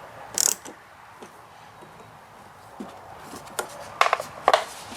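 A ratchet clicks in short bursts while tightening parts during fuel injector reassembly on a 2002 Ford Taurus, with sharp metallic clicks near the start and end and quieter handling noises in between.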